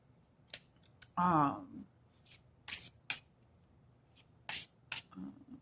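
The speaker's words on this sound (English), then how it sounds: "just shuffling the cards before I put them back" A deck of reading cards is shuffled by hand, giving soft, close riffles and flicks at irregular intervals, with a short stretch of a voice speaking in the middle.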